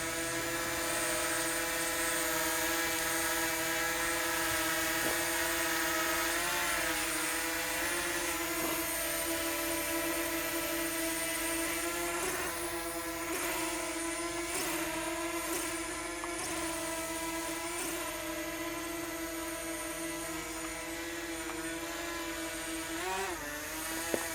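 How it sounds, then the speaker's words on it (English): A DJI Mavic Mini drone hovers in place outdoors, giving a steady, close, high-pitched propeller whine with sustained tonal harmonics that wobble slightly as it adjusts position, running continuously without talk. "it's hovering to the exact location"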